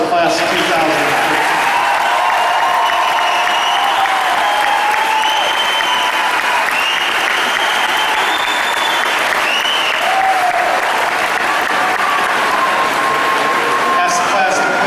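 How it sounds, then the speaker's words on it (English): Sustained applause from a large crowd at a high school graduation, loud and even throughout, with scattered cheers and voices mixed in. "one more round of applause for the class of 2013"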